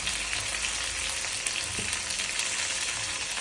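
Tomato pieces fry in hot oil with a steady, close crackling sizzle that runs evenly throughout, with a few brief louder pops and no voices.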